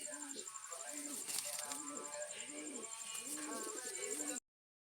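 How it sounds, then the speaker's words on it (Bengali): Pigeons coo in repeated low, throaty phrases close by, with a steady high-pitched tone and light background noise throughout; the cooing cycles several times before cutting off. "আমি আসলে কবুতরগুলো দেখাচ্ছি"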